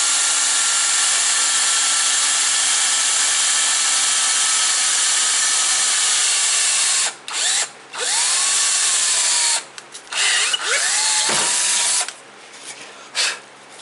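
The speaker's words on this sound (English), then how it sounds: "that's how we'll drill a hole" A power drill bores a hole into a piece of wood furniture with a steady high whine, then several short bursts as the trigger is released and squeezed again, close and loud.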